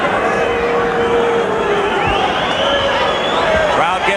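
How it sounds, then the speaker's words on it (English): A restless crowd murmurs and stirs at a WBC featherweight boxing match between Kevin Kelley and Alejandro Gonzalez, a steady loud wash of hubbub and scattered voices with no single voice standing out. "Crowd gets restless as Gonzalez's punch output slows dramatically"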